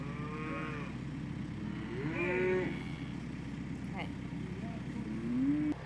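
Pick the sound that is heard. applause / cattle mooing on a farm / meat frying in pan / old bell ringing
cattle mooing on a farm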